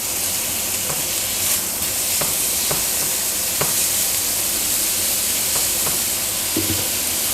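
Spiced lamb rump steaks sizzle loudly in a hot pan just after flipping, a dense steady hiss of fat frying with a few faint clicks and taps, close and continuous, no talking.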